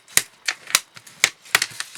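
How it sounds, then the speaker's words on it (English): A bone folder creases origami paper for a gift box, giving about eight sharp, crisp taps and swipes in an uneven rhythm, close and fairly loud against quiet. "use your bone folder to get those nice creases"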